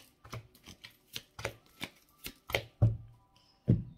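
Tarot cards shuffled and drawn for a nine-card spread: a run of crisp, rhythmic riffling flicks and slaps at roughly half-second intervals, ending in a couple of heavier taps as cards are laid down, close and without talk.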